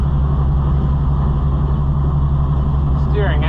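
A John Deere 55 EB combine engine runs steadily and loudly throughout, a constant low mechanical drone with a faint voice near the end.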